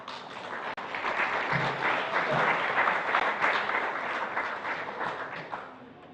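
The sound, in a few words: congregation applause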